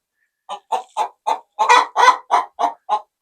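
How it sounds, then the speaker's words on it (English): A hen clucks loudly and close by inside a coop in a quick series of about nine calls. The middle notes are longer and more agitated. "Noisy hen, I'm invading her space."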